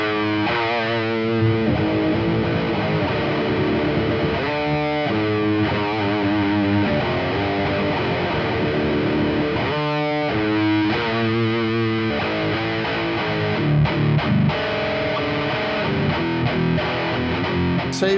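A distorted electric guitar runs through the Laney IronHeart amp simulator app on iOS, playing loud, heavy chords and riffs with sustained, saturated tone and no talking.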